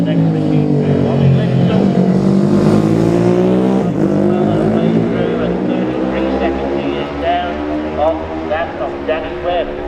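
A classic racing motorcycle at the Classic TT junior race roars loudly past at close range, its engine note swelling and then falling away, with a commentator talking over it.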